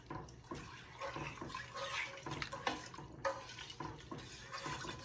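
A spoon stirs sugar into a pot of blueberry hot pepper jelly mixture, giving a steady wet swishing and scraping with small clinks against the pot, moderately close and continuous throughout.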